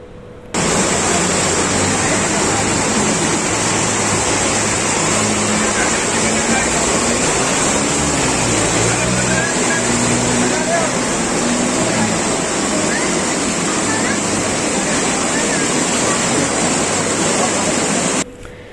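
Torrential rain pours over flooded roads at Rajendra Nagar circle, making a dense, unbroken hiss and rush of water that stays loud and steady throughout.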